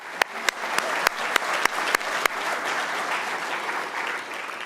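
An audience at a Chicago evening event for college-bound students applauds, opening with several sharp, separate claps that quickly merge into a full, sustained wash of clapping across the room.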